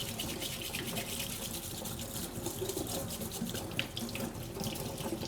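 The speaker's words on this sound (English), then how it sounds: "let's rinse off my plate, my utensils" Tap water running steadily into a sink while a plate and utensils are rinsed, a continuous close splashing rush with small clinks and shifts in the flow.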